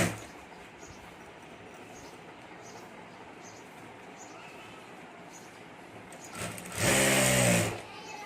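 A sewing machine runs steadily while stitching a zip to the lining of a homemade boho handbag, a continuous fast whirring that swells louder near the end.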